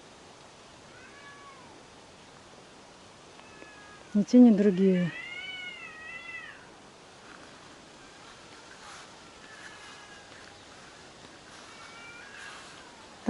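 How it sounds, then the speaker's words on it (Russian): Several cats meow in an outdoor garden setting, with a loud close burst of meowing in the middle and fainter, more distant meows scattered before and after, over light background noise and some speech. "Коты не уходят."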